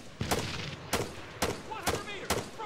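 Video game combat with grenade explosions and gunfire, five sharp, loud bursts spaced roughly half a second apart, each with a short rumbling tail, over a steady background of battle noise.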